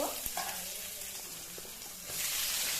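Onions sizzle and crackle in a hot pan while being stirred for spicy Maggi noodles, a steady close frying hiss with a brief louder burst near the end and no talking.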